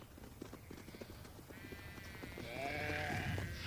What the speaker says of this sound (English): Their fat-tailed sheep, called karakuls, graze the desert vegetation.